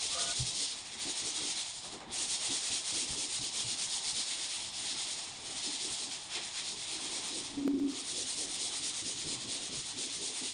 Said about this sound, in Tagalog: ang gagawin natin ay magliliha tayo ng number 120